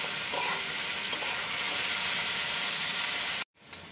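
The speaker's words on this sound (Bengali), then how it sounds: "চিচিঙ্গাগুলো খুব ভালো করে ভেজে নেব।" Pieces of snake gourd sizzle loudly in oil, a dense continuous hiss with light stirring scrapes, cutting out briefly just before the end.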